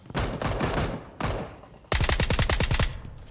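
Automatic weapons fire in Valorant Mobile: short bursts early on, then a loud, rapid stream of close shots in the second half.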